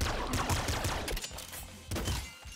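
Rapid weapon fire rattles in the top-down shooter Nuclear Throne, with dense bursts of shots and thumps through the first second, a brief lull, then another short volley.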